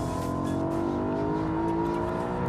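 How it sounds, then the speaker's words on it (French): BMW M3 engine pulling hard at about 220 km/h on the Mulsanne straight as the driver shifts into sixth gear, a steady loud drone with rising harmonics and no pause, heard from inside the car. "On roule à peu près à 220 km/h, je passe la 6e."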